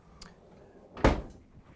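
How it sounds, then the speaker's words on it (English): A Fisher Paykel dishwasher drawer in an Entegra Aspire motorhome kitchen slides and shuts with one solid thump near the middle, preceded by a faint click, in an otherwise quiet room. "The Fisher Paykel dishwasher drawer is also standard."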